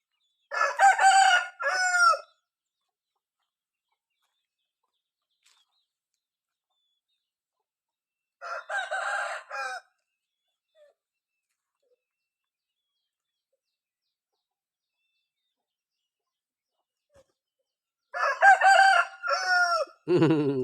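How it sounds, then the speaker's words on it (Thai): A rooster crows three times, each call loud and clear, separated by long stretches of silence. "ไก่ขันแหละเอ็กเอ็ก"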